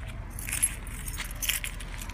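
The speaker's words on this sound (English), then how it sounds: "Lock the car." Car keys jangle close by for a couple of seconds while a parked car is locked, light metallic rattles over a low outdoor rumble.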